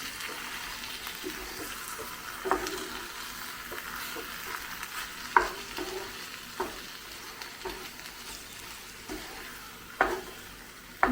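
Eggs stirred into a brinjal masala in a frying pan: soft, continuous frying sizzle with intermittent spatula scrapes and taps on the pan, fairly faint and close, no voices.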